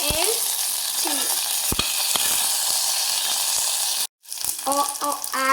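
Chili and curry leaves sizzle in hot oil for a lentil and lima bean curry, a loud continuous frying hiss with brief bursts of stirring and popping and a short silent break near the end.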